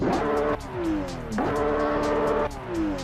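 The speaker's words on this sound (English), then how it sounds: "So that is the Porsche GT3 RS." A Porsche GT3 RS engine in the racing game Assetto Corsa, high-revving as it climbs through the gears, with sharp drops at each shift and steady loud acceleration throughout.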